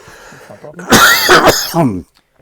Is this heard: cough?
yes